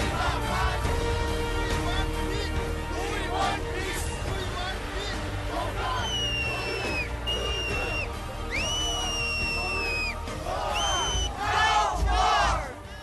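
A large, dense anti-war demonstration crowd in New York City roars and chants continuously, with rising whistles and shouts cutting through the steady crowd noise.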